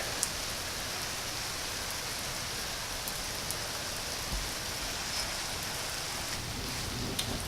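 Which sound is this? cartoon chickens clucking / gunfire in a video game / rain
rain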